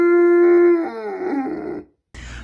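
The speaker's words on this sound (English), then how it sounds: "If you can get your dog to howl along with that" A dog howls in one long, sustained, wavering note that slides down and breaks off, followed by a short silence.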